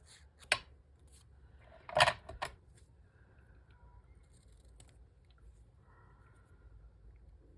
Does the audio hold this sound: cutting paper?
yes